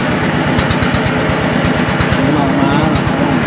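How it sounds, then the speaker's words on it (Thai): A two-wheel walking tractor engine runs steadily up close with a rapid, regular thumping beat, heard during a trip into the forest with voices in the background. "เราจะขี่รถไถไปทุกคนเลย"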